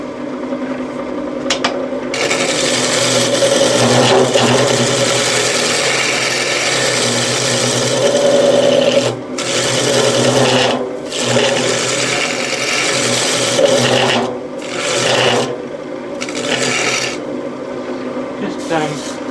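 A scraper cuts into the bottom of a wooden bowl turning on a lathe, giving a steady, loud rasping scrape over the motor hum. It runs in long passes broken by short pauses, with a few brief spoken words mixed in.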